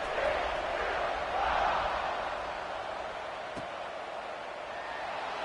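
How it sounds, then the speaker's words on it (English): Stadium crowd in the College Football 26 video game keeps up a steady, broad roar and buzz throughout, swelling slightly near the start, with no clear speech over it. "this crowd is buzzing after that last score"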